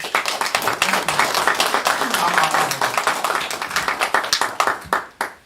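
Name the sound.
applause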